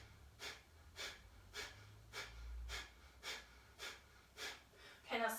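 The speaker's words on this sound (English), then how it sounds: "And Kapalabhati breath for 10." Rapid Kapalabhati yoga breathing: about ten sharp, evenly spaced exhalations pushed through the nose, close and soft, with a faint low hum underneath.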